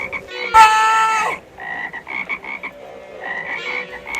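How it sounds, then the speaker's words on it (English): Frogs croak as a drama sound effect: loud, close, raspy calls in a quick irregular series, with one longer, louder croak near the start. "These cursed frogs are everywhere."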